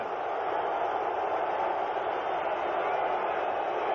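Football stadium crowd at a Raiders at Browns game in Cleveland: a steady, dense roar of the crowd that holds constant and loud throughout.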